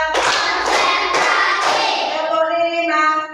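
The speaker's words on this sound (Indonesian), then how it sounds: "Tepuk 1, tepuk 2, tepuk 3, tepuk 4," A classroom of fifth-grade pupils claps hands together in a counted rhythm, sounding as a few loud, near, crisp group claps spaced evenly, each followed by a ringing tail.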